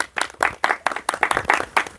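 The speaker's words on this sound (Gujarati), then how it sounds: "તાળીઓના નાદથી વધાવો" Audience applause at a Gujarati farmers' prize event called Khedut Banshe Maharaja, greeting a correct answer: a steady, fairly close burst of many hands clapping that continues for the whole stretch, with no talking over it.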